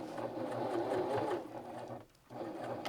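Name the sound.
sewing machine stitching jeans hem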